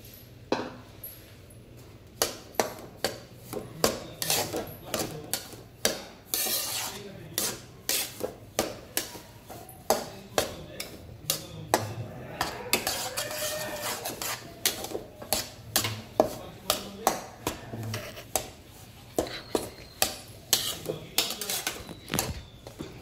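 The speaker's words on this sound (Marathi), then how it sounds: "आता आपण हा रवा खरपूस भाजून घेऊया, असंच हलवत राहायचा" Semolina roasting in ghee in a pan is stirred continuously, giving a long run of dry scraping, rasping and tapping strokes of a spoon against the pan, close and fairly even in rhythm, with occasional brief talk.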